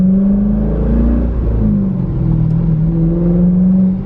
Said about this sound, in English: I'll do an off the line acceleration to let you guys hear from the outside.